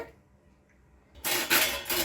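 After a quiet moment, glasses clatter and clink against metal as they are set down inside a pressure cooker, a short burst of close, bright knocks.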